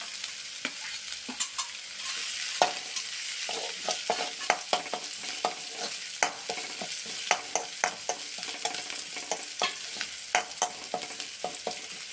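Chopped curry leaves frying in a pan, a steady low sizzle with frequent sharp stirring clinks and scrapes throughout, close by and with no talking.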